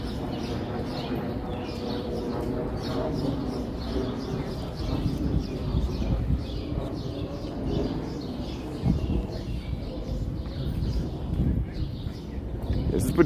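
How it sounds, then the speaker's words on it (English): Birds on a Harlem street call and coo in the background, soft repeated chirps mixed with traffic rumble and distant city noise, while a person talks nearby. "You hear the birds chirping."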